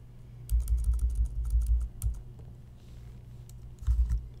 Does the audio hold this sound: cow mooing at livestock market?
no